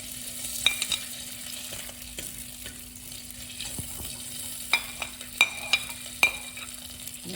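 Onions and garlic frying in hot coconut oil with mustard seeds for dhal mallum, a soft steady sizzle broken by occasional sharp pops and spoon clinks, close and quiet.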